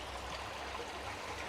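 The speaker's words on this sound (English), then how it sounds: "there's an actual stream that goes underneath the entire plant with multiple entrances" A stream flows beneath an abandoned Harbison-Walker Refractory brickyard plant in Bricktown, Pennsylvania, in midwinter, giving a faint, steady rush of running water with no voices.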